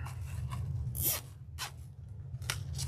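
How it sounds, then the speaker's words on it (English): A zip tie is pulled tight around mesh on a Valentine's Day wreath, giving a few quick ratcheting zips up close over a low steady background hum, the clearest near the one-second mark. "And zip tie this together."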